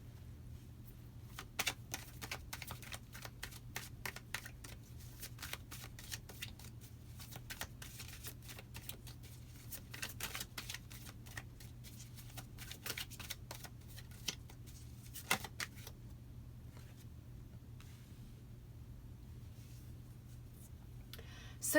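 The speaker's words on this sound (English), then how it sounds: "So I'm going to start shuffling and let's see what your first card is." Tarot cards being shuffled by hand, a quiet, close, steady patter of soft card riffles and taps continuing for a long stretch over a low constant hum, with no talking.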